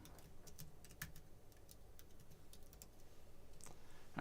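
Quiet typing on a computer keyboard, a cell in a site area spreadsheet being labelled, with irregular soft key clicks scattered across a few seconds over faint room hum.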